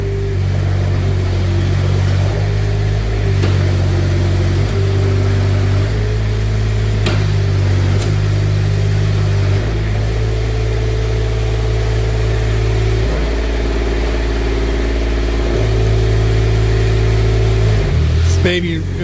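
A 2024 Manitou TMM45 4W truck-mounted forklift running its engine at close range, steady mid-pitched drone with several surges as the side shift and hydraulics work, brief dips and a sharper rise near the end, a voice speaking over it.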